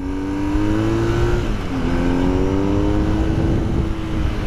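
A 136-horsepower BMW R1250R motorcycle engine fires up and runs close by: a steady, loud mechanical drone whose pitch dips briefly midway, then settles into an even idle.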